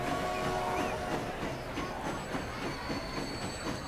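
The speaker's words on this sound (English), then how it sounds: "There's another train." An electric train in Transport Fever rumbles past with rolling clatter and faint metallic squeals, moderately quiet and continuous, with synthetic game-like sound quality.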